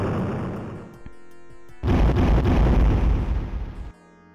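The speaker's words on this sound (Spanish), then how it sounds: "Increíble explosión, ¿eh?" A blast from the 1993 DOS racing game CyberRace: a loud, dense burst of noise erupts midway, holds for about two seconds with a heavy low rumble, then cuts off, after quieter game sounds.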